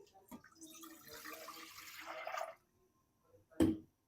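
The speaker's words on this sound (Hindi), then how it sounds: "मेरे पास है 3 कप दूध। ये मैं पैन में डाल दूंगी।" Three cups of milk poured from a container into a pan on the stove for chai, a steady liquid splash lasting a couple of seconds, followed by a brief clink near the end.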